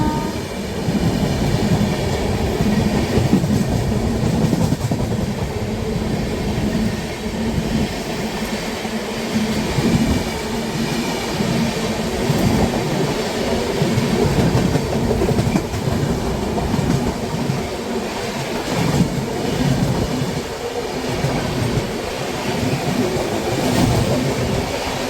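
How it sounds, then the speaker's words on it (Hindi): The Howrah Rajdhani Express passes close by on an Indian railway line, a loud, continuous rumble with rhythmic clickety-clack of wheels over rail joints that holds steady throughout. "ये निकली अपनी हावड़ा राजधानी"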